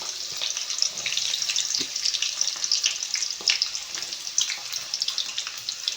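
Chopped onions and curry leaves fry in hot oil, giving a continuous bright crackling sizzle at moderate volume with faint scrapes, heard alone.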